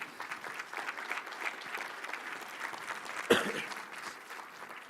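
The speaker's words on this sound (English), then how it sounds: "round of applause for the union guys" An audience applauds union workers at a city address in Rock Island, steady moderate clapping from a hall crowd with one sharper knock partway through.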